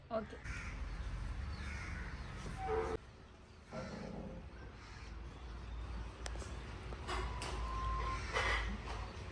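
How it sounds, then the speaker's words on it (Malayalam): Crows caw outdoors in short, scattered bursts over a steady outdoor background, with faint voices in the distance. "പുറത്തേക്ക് വന്ന കറുത്ത കാക്കോള്"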